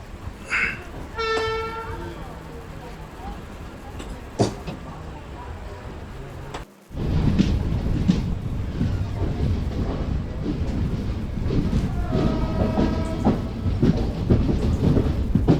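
A passenger train running from Renigunta to Tirupati sounds two close, loud horn blasts, one near the start and one late, over a steady heavy rumble of wheels and carriages that swells after a brief dip in the middle.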